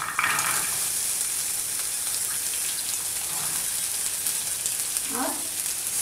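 Vegetables frying on a hot tawa for bread pizza give a steady, loud sizzle and crackle throughout, with a few brief stirring scrapes.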